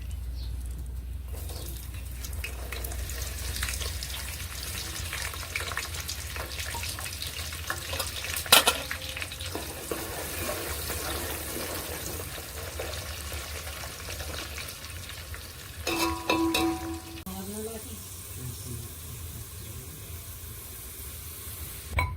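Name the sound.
peanuts and onion frying in hot ghee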